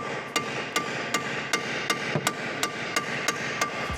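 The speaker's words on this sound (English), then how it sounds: "normally wouldn't hit them with a hammer" Repeated sharp metallic hammer blows on seized bolts of a TVR car, about a dozen evenly spaced strikes, ringing close and loud over a steady background hum.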